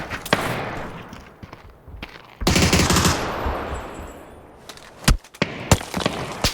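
Bursts of rapid automatic gunfire crackle between single sharp shots in PUBG, loud and close, with brief pauses in between.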